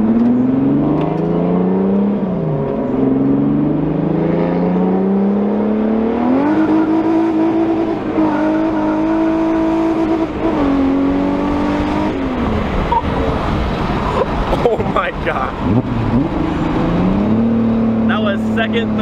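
Car accelerating hard through the gears during a ride near the Nurburgring, engine note climbing and dropping with each shift, loud and close from inside the cabin, with people talking over it.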